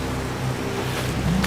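Close, continuous rush of river water rising near a waterfall in rugged wilderness, heard as a steady broad roar with no voices.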